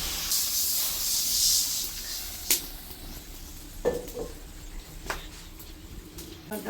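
Water hits cooked-down spice paste frying in oil and bursts into a loud hiss at the start, then settles to a quieter sizzle. A few sharp clinks of a utensil follow.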